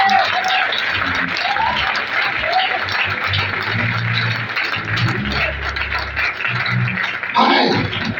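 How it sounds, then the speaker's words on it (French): A church congregation at an apostolic worship service applauds and cheers loudly and steadily throughout, a dense wash of clapping with voices calling out underneath. "Acclame fortement ici."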